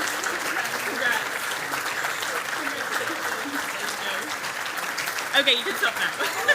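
A lecture crowd keeps up continuous clapping for certificate recipients, a full, even roar of applause with a few sharper claps near the end and faint voices beneath.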